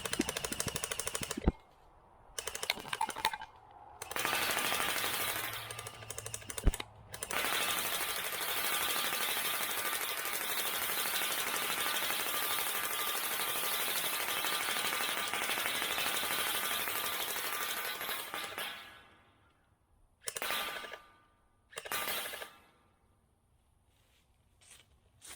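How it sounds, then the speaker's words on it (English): SKD CS001 blaster firing repeatedly at a 20-foot target, long bursts of rapid mechanical rattling with short gaps between them, loud and close, fading to a few short clacks as the ammo runs out, no voices. "Yes, I did intentionally shoot at the camera and scored a few hits to boot here at 20 feet."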